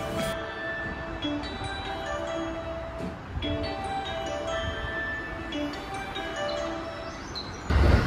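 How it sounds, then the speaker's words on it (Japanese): A Japanese local train rumbles steadily into a platform at Nishi-Akashi station at night, with a faint high whine and clattering, ending in a louder thump as it nears. "さあ、大久保まで帰る電車がやってきました。"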